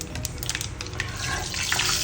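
Mustard seeds and asafoetida sizzle in hot oil for an Andhra-style tempering, a steady close crackle and hiss with scattered sharp pops building slightly louder toward the end, no voices.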